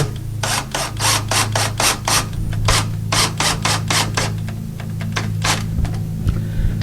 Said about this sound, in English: you can just turn it in by hand with a regular screwdriver